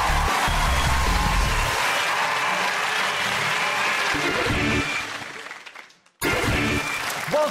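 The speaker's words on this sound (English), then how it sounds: "Ladies and gentlemen, a round of applause for James, John and Brendan." Studio audience of a comedy quiz show applauding, dense sustained clapping that tapers off, cuts out briefly, then returns strongly.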